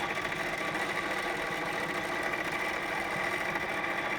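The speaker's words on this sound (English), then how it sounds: "So now that I have my fabric down, I'm just going to sit there and quilt." A long arm quilting machine stitches steadily during free motion quilting on fabric held in gripper hoops, giving a close, constant mechanical whir with no talk.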